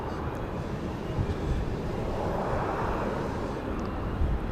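A Southwest Airlines aircraft at Dallas Love Field airport, a steady broad jet engine roar heard at a distance, mixed with some wind buffeting on the microphone.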